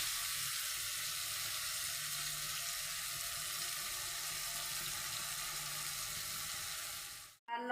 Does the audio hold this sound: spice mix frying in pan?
yes